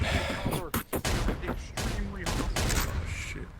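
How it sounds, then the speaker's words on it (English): A rapid series of loud gunshots crackles in bursts, with shouting voices mixed among the volleys in a chaotic battle scene. "They're shooting!"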